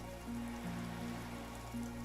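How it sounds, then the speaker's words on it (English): Rain falling in the game Disco Elysium, a faint, soft patter of drops on a surface, steady and quiet with a low hum underneath and no voices. "A drop of rain falls on a black log of an extinguished campfire"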